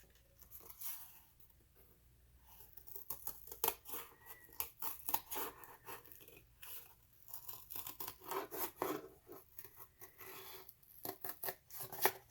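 Scissors snip through cardboard to cut out a template for ceramic coil building: irregular bursts of close, crisp cuts and rustling, starting faint and growing busier and louder.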